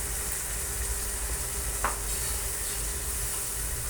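Water poured into frying spices and tomatoes in a pan for methi matar malai sizzles and hisses loudly and steadily at close range, with one brief sharper spatter partway through.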